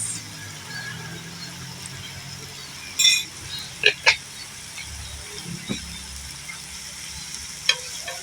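Stir-fried vegetables being stirred in a pan: a soft background sizzle with a few bright metallic scrapes and clinks of the utensil, close by, while a voice speaks briefly.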